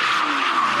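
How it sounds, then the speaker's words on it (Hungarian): An open-top car burns rubber on a race circuit's start-finish straight, its tires letting out one loud, continuous squeal with the engine under it, close and unbroken. "nyitott autóval égetjük a gumit a célegyenesben"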